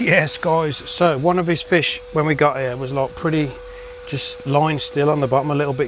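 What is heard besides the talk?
No distinct noise like a dog, phone or traffic.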